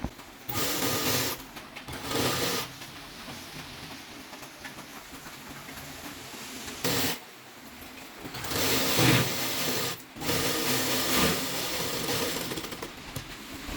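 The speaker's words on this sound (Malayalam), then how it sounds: "ഇനി നമ്മളിതിൻ്റെ ഒരു സൈഡ് താഴെ ഫ്രില്ല് വെക്കുന്നതിന് മുമ്പ് തയ്ച്ചു കൊടുക്കുകയാണ്" A sewing machine stitches the side seam of a frock-style nighty, running in a steady, close, loud whir. Several bursts start and stop with short pauses between them, and no one speaks.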